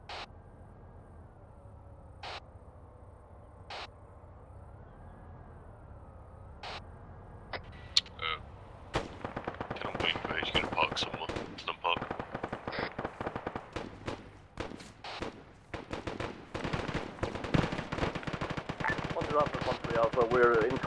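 Gunfire in the Arma 3 video game aimed at enemy combatants on a rooftop: a few isolated shots at first, then dense rapid bursts of automatic fire building toward the end, loud and sustained.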